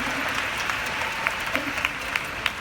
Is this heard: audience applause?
yes